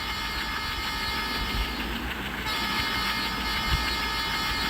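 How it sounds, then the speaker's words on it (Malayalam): A diesel-hauled passenger train with a short rake of coaches runs at high speed, a loud continuous roar and rush of wheels on rail with a faint whistle near the end, no talk. "നല്ല സ്പീഡിൽ തന്നെയാണ് ട്രെയിൻ പോണേ. കാണുമ്പോൾ തന്നെ മനസ്സിലാവും."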